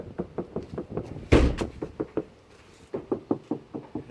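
Knuckles rap on the door of a Lexus RX 350 after sound insulation, producing a quick series of dull, muffled knocks with one heavier thump partway through and a short pause before the knocking resumes.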